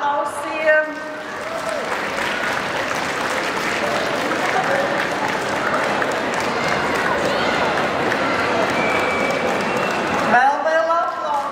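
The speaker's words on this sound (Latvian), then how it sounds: "Un atbalstīsim ar aplausiem." A large audience at a pet expo breed demonstration applauds steadily and loudly for about ten seconds, the clapping dense and continuous before stopping abruptly.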